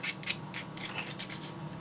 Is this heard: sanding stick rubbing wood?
yes